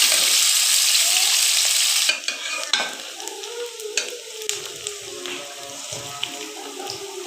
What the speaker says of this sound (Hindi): प्याज डाल दूँ, तड़के वाले चावल पका रहे।